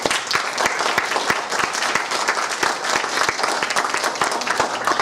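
Dense, steady applause from an audience at a talk on the Illinois fair tax, many hands clapping together at full volume for the whole stretch with no voices over it.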